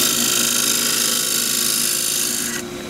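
A 3/8 deep fluted bowl gouge cuts steadily into a cross-grain wooden box blank spinning on a lathe. The rasping, hissing shave runs loud and close without a break, then stops abruptly near the end.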